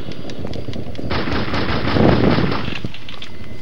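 Rapid bursts of automatic gunfire in the video game Castle Miner Z, a dense, continuous rattle of shots heard up close with no talk over it.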